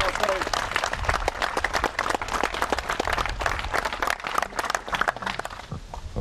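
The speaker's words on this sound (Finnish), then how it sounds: "Isot aplodit." Outdoor applause from a crowd at a disc golf championship final round: a dense, steady burst of many hands clapping for about six seconds, fairly close, slowly thinning toward the end, with scattered voices mixed in.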